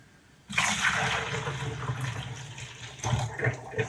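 A dissolved mixture is poured quickly into a container of water while making rose water at home, giving a sudden splashing gush that runs steadily, then surges and overflows near the end, close and fairly loud.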